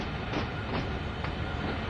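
Train running in Train Sim World 2 on the Sand Patch grade: a steady, dense rumble of rolling stock and wheels, continuous and fairly close, with faint periodic rail clicks and no voices.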